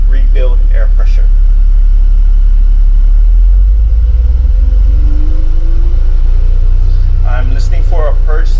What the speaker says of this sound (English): I will now engage my parking brake and slightly accelerate to help rebuild air pressure.